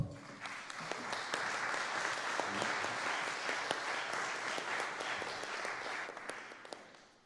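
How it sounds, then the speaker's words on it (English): An audience at a fundraiser breaks into sustained applause for an author. Many hands clap steadily and close for about seven seconds before fading. "Let's give a big applause to our very own author, Unger."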